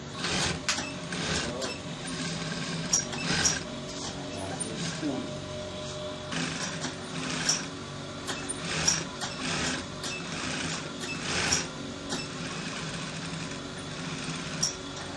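A sewing machine stitches a shirt placket on a senator top, with bursts of rapid mechanical whirring and clicks between pauses while someone talks over it.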